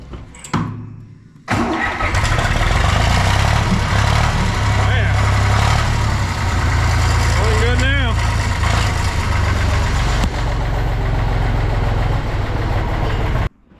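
An old Zetor 50-horsepower tractor cranks briefly, then its engine catches and settles into a loud, steady, rattling diesel idle that runs close by for over ten seconds, with a voice talking over it.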